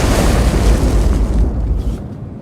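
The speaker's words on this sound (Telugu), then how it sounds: "చూస్తే అది బంతి కాదు, బాంబు." Bomb blast in a Telugu horror-action movie scene: a loud, broad rumbling explosion that roars for about a second and a half, then slowly dies away into a softer tail.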